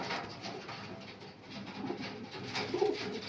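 A loft of lightweight Panjabi Malwai pigeons keeps up a soft, continuous cooing nearby, throaty rolling calls swelling toward the end, heard alone without speech.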